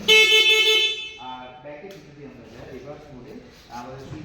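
A short, loud electronic horn beep from an electric bike up close, followed by a person talking.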